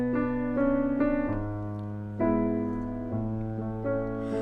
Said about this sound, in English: Now on the recording, he does a little bit more on the piano, especially in the first 3 measures. It's going to sound like this.